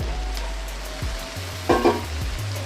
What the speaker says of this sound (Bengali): চিচিঙ্গাটা দিয়ে ভাজা ভাজা করে নেব